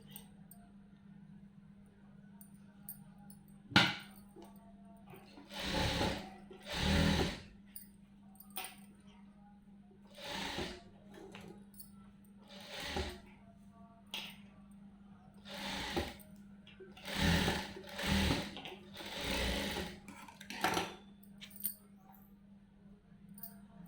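Sewing machine stitching a blouse, heard as a series of short whirring bursts with pauses between them, plus light clicks and clinks.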